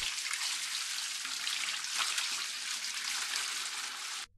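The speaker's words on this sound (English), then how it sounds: "Drain and clean the recovery tank." Water drains from the recovery tank of a Tennant T7 rider floor scrubber in a steady, hissing gush that holds constant for about four seconds before abruptly cutting off.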